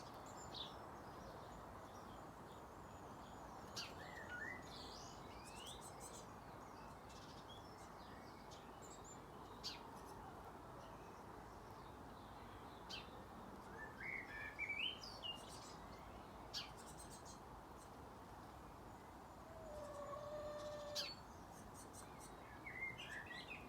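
Great tits sing in a garden, thin chirps and short song phrases coming and going faintly over a steady outdoor hiss, with a slightly busier burst of calls near the end.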